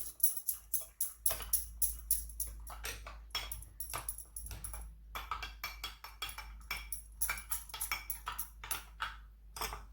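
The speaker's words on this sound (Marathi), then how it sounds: "थोडंसं पाणी ओतून आधी हलवून घ्यायचं आहे" A spoon clinks and scrapes rapidly against a metal vessel in quick, uneven bursts, close by, with no voices.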